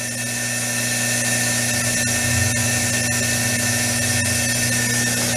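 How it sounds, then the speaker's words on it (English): Air purges from an R-134a car air-conditioning service hose, a continuous loud hiss over a steady mechanical hum with tonal whine, with no pauses. "It's purging air."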